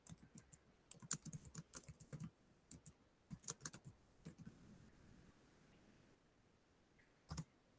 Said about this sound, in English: start typing in whatever it is that you needed